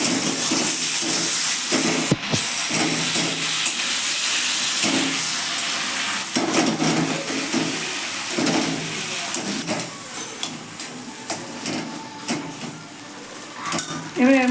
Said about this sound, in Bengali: আর এই ম্যাগি মশলা দিয়ে দিলাম দেখুন নাড়িয়ে নিয়ে আগে